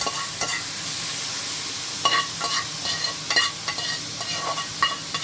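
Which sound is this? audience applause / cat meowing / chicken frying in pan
chicken frying in pan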